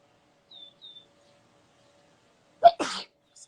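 A single sharp sneeze during a quiet yoga session, a short two-part burst that follows a couple of faint high tones, leaving near silence around it.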